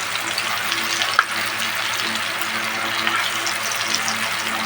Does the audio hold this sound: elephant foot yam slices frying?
yes